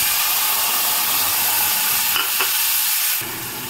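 Mixed spice paste fries hard in hot oil tempered with dried red chillies, bay leaves and cumin, giving a loud, steady sizzle with a couple of brief clinks before it eases slightly near the end.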